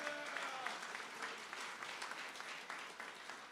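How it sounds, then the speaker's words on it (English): Graduates applauding themselves at a graduation ceremony: steady, dense clapping from a crowd, moderately distant and even throughout. "Give yourself an applause too,"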